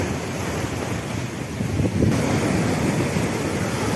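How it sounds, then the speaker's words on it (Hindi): Rough sea waves surge at Digha beach in a continuous loud roaring wash, growing heavier midway, mixed with gusty wind buffeting the microphone and no voices. "भयंकर उत्ताल दीघा समुद्रे जलराशि"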